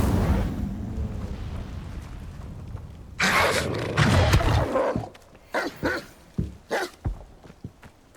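A fire spell cast in Hogwarts Legacy bursts out in a loud roaring whoosh of flame lasting a couple of seconds, then several short sharp crackling bursts follow in quick succession over low background rumble.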